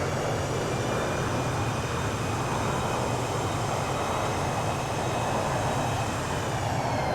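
Thrust reversers on a FlyJSim Boeing 727 landing in the X-Plane 11 flight simulator give a steady, loud, full-bodied jet roar with a rumbling low end that holds unbroken for several seconds.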